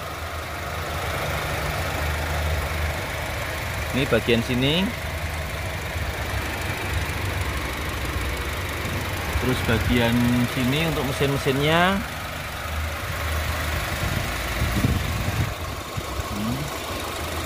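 A 2014 Honda Civic FB 2.0 engine idling smoothly, a low steady hum running throughout beneath someone talking close by.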